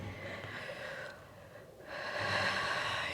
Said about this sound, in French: Et on fait une dernière respiration comme ça.